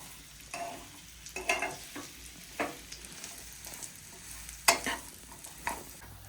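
Pitted dates sauté in ghee over a medium flame, giving a soft, quiet sizzle broken by intermittent stirring scrapes, with a few sharper clinks against the pan.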